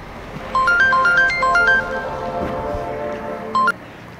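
A phone rings with an incoming call, a bright electronic melodic ringtone playing a repeating rising pattern, cutting off and then briefly sounding again near the end over quiet room background.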